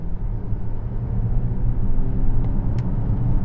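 A Volvo XC90 T8 Inscription plug-in hybrid accelerating through roundabouts, heard from inside as a steady low engine and road rumble that swells slightly, with a couple of faint clicks near the end.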